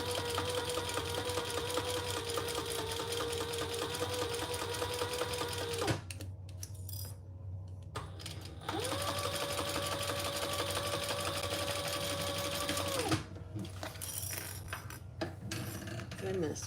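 A sewing machine runs in long steady bursts while stitching a zipper panel, lining and gusset together, with brief pauses and the rustle of fabric between runs.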